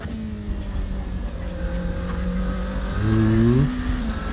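A low-slung car laps the Nordschleife in the racing game Assetto Corsa, its engine droning steadily with layered harmonics before climbing sharply in a brief rev near the end, loud and alone.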